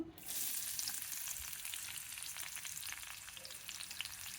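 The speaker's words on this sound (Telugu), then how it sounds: "బీరకాయ తాలింపు చేస్తున్నాను" Ridge gourd tempering fries in hot oil, a steady crackling sizzle that is fairly close and continuous for a few seconds, with no voices over it.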